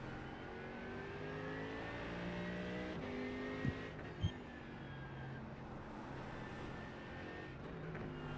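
Porsche race car engine in a sim racing game holds a steady, sustained drone with harmonic whine shifting through gear changes, a couple of brief sharp knocks midway, no talk.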